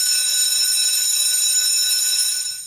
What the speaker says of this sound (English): listen for the bell, folks.